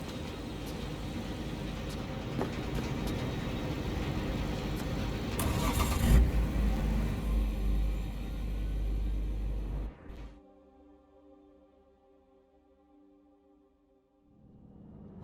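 Car engine starting in Cyberpunk 2077: a steady low engine drone swells, peaks with a thump around six seconds, then cuts off near ten seconds, leaving a faint tonal hum and quiet.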